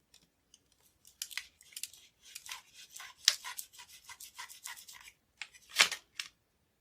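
Scissors snip through a printer ink ribbon cut from a re-inking cartridge for a TRS-80 Pocket Computer printer interface, giving a close series of crisp, irregular cuts and rubs that end with one sharper snip.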